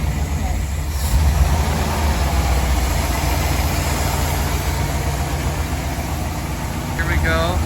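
A 1957 Ford Thunderbird idles while warming up, a loud, steady low rumble close by with people talking over it.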